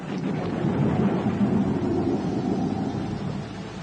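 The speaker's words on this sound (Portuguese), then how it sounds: "Nem mesmo a tempestade que se aproximava." An approaching thunderstorm fills the space with steady rain and a deep, continuous rumble of thunder, a dense low roar with wind-like noise and no voices.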